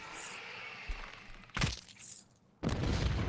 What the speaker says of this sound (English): Those explosions go off.